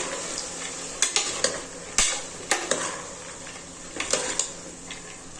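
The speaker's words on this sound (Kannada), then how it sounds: "ಕಾಳುಗಳು ನೆನೆಸಿಟ್ಕೊಂಡಿದ್ನಲ್ಲ ಹಾಕ್ತಾ ಹಾಕ್ತಾಯಿದ್ದೀನಿ ಎಲ್ಲ ಹಾಕ್ಬಿಟ್ಟು ಚೆನ್ನಾಗಿ ಮಿಕ್ಸ್ ಮಾಡ್ಕೋಬೇಕು" Soaked legumes are stirred into a mixed vegetable palya frying in a pan, giving irregular metallic clanks and scrapes of a spatula over a faint sizzle, close and clear.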